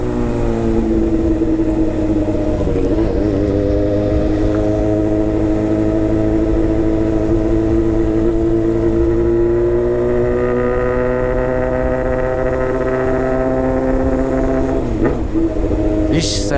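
A Honda Hornet motorcycle engine with an aftermarket exhaust drones steadily at a high, sustained rev, loud and close, the pitch rising slightly before a brief burst near the end.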